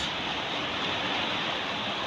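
Typhoon Kristine's downpour and gusting wind in Tanauan City make a dense, loud, unbroken hiss and rush, like surf or a waterfall, constant across the whole stretch.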